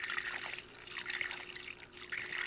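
A meditation fountain attachment sprays water in a sprinkler pattern, a steady hissing, splashing patter that swells and dips slightly, heard alone and fairly close.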